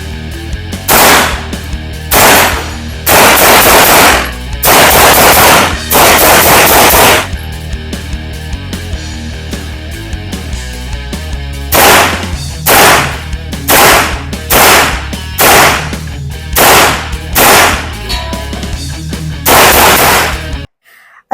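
A Celik Arms Crossline-C rifle being test fired, loud sharp gunshots in rapid bursts and quick strings with short pauses between them, close and dominant with no talking.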